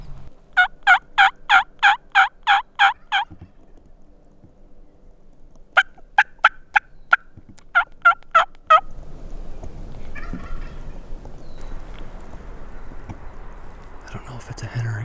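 A wild turkey gobbler calls in a spring hunt in Washington, several loud, rapid gobbling bursts in a row, then a pause and further shorter bursts at moderate distance, followed by a low whisper and rustling nearby.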